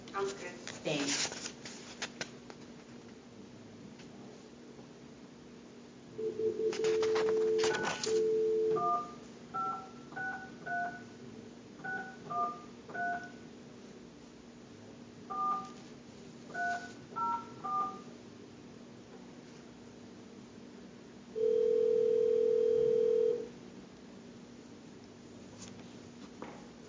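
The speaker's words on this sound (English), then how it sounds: "I'm going to try to add a party onto this telephone call." Telephone keypad dialing tones while adding a party to a call during an Iowa Department of Human Services hearing: a long steady tone, then two rapid bursts of DTMF beeps, and another long tone.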